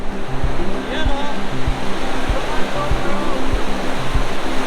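Ocean waves rolling in at Baler beach, a steady, loud, close wash of surf noise with no clear breaks, and faint voices underneath.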